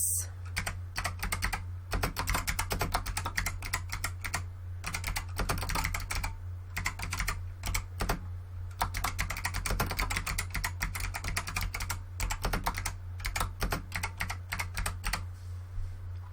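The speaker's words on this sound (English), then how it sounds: "I'm going to try typing in my address." Continuous rapid typing on a computer keyboard, clicky keystrokes in bursts with brief pauses, close and steady over a low constant hum.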